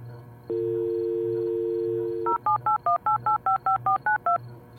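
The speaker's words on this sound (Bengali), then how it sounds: "জুবের নম্বর ডায়াল করে ফোন করল" A steady dial tone cuts off, then a quick run of about a dozen touch-tone beeps as a phone number is keyed in, clear and close.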